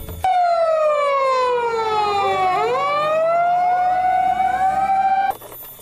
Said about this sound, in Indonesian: ini mobil pemadam kebakaran teman-teman